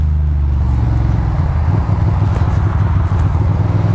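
A classic Porsche, a split-window Beetle-era air-cooled car on a cold 35°F commute, drives with a steady, loud low engine drone and road rumble throughout, close and continuous with no talk.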